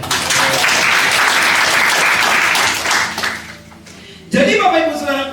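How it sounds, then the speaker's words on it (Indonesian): A church congregation claps together during worship, a loud, dense burst of applause from many hands that carries for several seconds, fades down, then gives way to a voice speaking with reverberation in the hall. "Tepuk tangan buat Tuhan"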